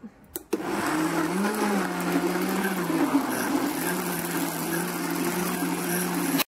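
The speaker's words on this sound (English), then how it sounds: "So let's turn turn on this bad boy and blend them up" A Vitamix blender whirs through kale for a green smoothie, starting with a click and a sudden loud motor roar that holds steady with a wavering pitch, then cuts off sharply.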